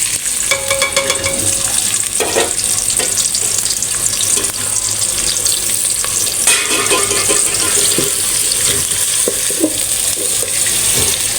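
Sliced onions sizzle steadily in hot oil in a pan while keema is being cooked, a dense continuous frying hiss with occasional stirring clicks and no talking.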